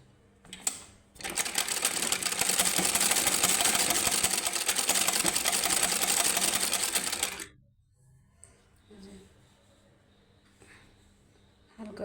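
A sewing machine stitches skirt pieces together in one loud, steady whirring run of about six seconds. It then stops abruptly, leaving faint handling noises with the fabric.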